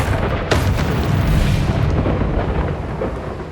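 A Bombarda spell explodes in Hogwarts Legacy inside a goblin mine, a loud sharp blast at half a second giving way to a sustained rumbling roar that slowly fades.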